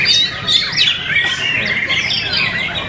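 A white-rumped shama, a contest songbird, sings a continuous run of bright, shifting chirps and whistles that rise and fall in pitch, close and fairly loud, with no pauses over the few seconds.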